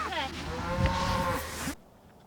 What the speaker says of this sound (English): fall day in Montana, surrounded by Black Angus cows